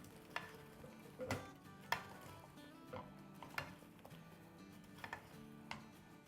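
Colorful vegetables and chicken being tossed in a stir-fry pan, with a series of sharp, fairly quiet clatters and scrapes at irregular intervals over a faint background sizzle.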